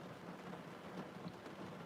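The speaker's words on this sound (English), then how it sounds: "it's pouring" Heavy rain pours steadily with a low rumble of thunder underneath, a dense continuous hiss with no talking.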